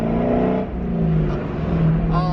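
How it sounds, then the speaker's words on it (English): A road-legal Nissan GT-R fitted with a new exhaust and headers revs with a deep throaty drone rising and falling, close and loud, while someone talks over it. "the new exhaust setup and the headers and everything is so awesome"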